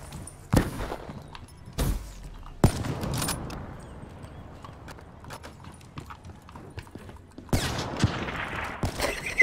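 Rapid gunfire bursts from Call of Duty Black Ops 3 on Xbox One, sharp broadband volleys arriving in short clusters with quieter game ambience between them.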